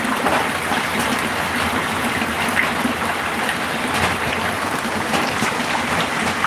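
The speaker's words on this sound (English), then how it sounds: "I have to fetch water" Water being fetched into a drum in Nairobi, a continuous rushing, splashing flow with a steady trickling texture and no break throughout.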